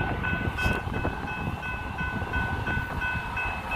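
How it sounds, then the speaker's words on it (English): A Union Pacific manifest freight train led by locomotive 7497 rolls northbound past a grade crossing on Massingale Road, its wheels and cars rumbling steadily and close while a crossing bell rings in repeated tones throughout. "But we got another freight train."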